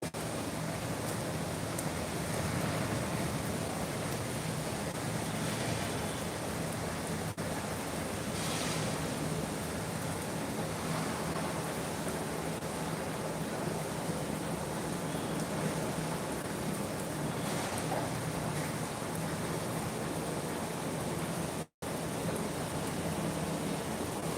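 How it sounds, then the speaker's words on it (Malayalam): Steady rain falling in Kozhikode, a continuous broadband hiss with no breaks and no voices, even and fairly soft throughout. "ഇവിടെ ഞങ്ങളുടെ നാട്ടിലും മഴ പെയ്യുന്നുണ്ട്"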